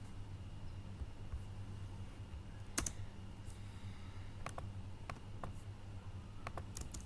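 Soft keyboard typing as a product search is entered on a computer, with a quiet run of taps and one louder clack, heard under steady low room hum.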